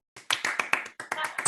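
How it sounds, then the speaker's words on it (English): A short burst of scattered clapping, several hands applauding unevenly for about a second, sounding thin and compressed as if through a call. "Everyone can unmute and give a round of applause"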